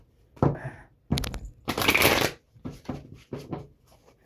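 Tarot cards shuffled by hand in several quick riffling bursts, with short pauses between them, close and fairly loud, no voices.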